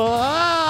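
A stylized goat bleat from Goat Simulator 3, a single wavering, nasal cry lasting under a second, loud and close with no talking over it.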